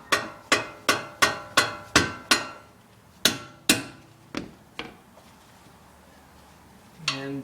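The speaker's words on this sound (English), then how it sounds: "we're just going to give it a little bit of a pound" A hammer pounds on the rear axle assembly of a 1994-2004 Ford Mustang SN95, giving a rapid series of about seven sharp metallic strikes, then a few slower, fading blows and a short clank at the end.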